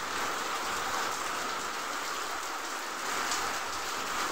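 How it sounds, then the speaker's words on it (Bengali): A heavy rain pours down during a Kalbaishakhi-style storm, making a constant, thick hiss of drops pattering on surfaces, steady and enveloping with slight swells in intensity. "নিচে তোমরা বৃষ্টির আওয়াজ শুনতেই পাচ্ছ, এটা প্রচুর বৃষ্টি হচ্ছে"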